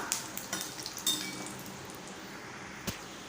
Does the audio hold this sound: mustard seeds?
yes